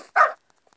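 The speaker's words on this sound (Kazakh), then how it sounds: "Вау, күшік туылды, кішкене" A newborn puppy gives a single short yelp-like whimper, close and fairly loud, followed by near silence with a few tiny faint squeaks.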